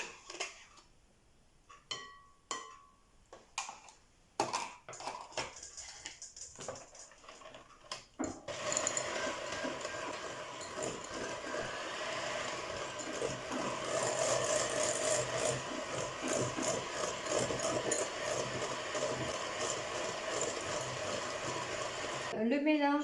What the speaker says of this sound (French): Et je vais continuer à battre avec le batteur électrique.